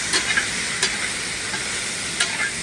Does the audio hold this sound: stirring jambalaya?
yes